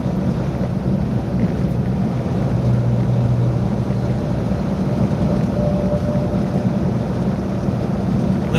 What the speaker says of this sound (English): A little bit windy over here in Missouri